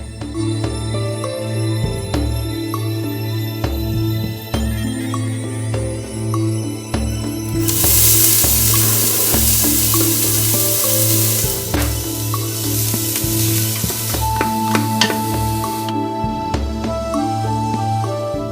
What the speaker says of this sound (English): Using the saute function, saute chopped onion and shallot.